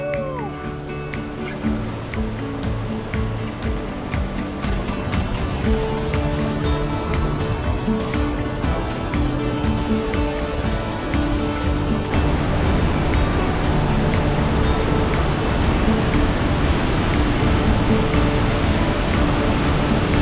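Rushing water from Casaroro Falls in the Philippines, reached through bamboo forest: a dense, continuous broadband roar that holds steady and swells louder partway through, with no pause or break.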